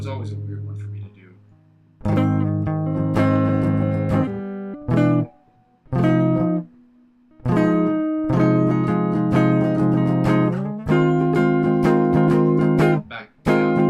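Electric or acoustic guitar chords played on the bottom four strings during a live practice session, sounding as a series of loud sustained strums and short chopped stabs separated by brief gaps, with no one talking.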